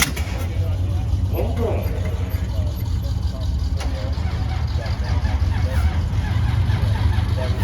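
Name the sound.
1970 Hemi Challenger race car engine cranking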